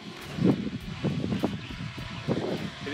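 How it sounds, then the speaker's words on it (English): Wind blows outdoors at a small drone flying site, rumbling and buffeting in uneven low gusts close to the microphone, with no voices heard. "Pretty windy out here"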